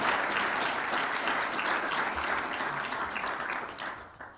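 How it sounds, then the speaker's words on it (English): A crowd applauds steadily for an absent former president at a Botswana presidential address, the dense clapping holding for about four seconds before tapering off. "a round of applause."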